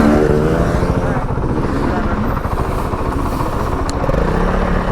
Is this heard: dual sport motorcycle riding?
yes